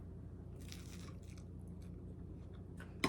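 Someone chews crunchy, over-toasted bread dipped in homemade tomato soup, a series of soft, close crunches and bites in a quiet room, ending with a louder crackle.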